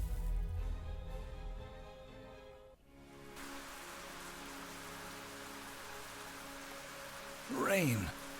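Steady rain falls in the video game Near-Mage, a constant soft hiss that fills the scene, with a brief rising whoosh near the end.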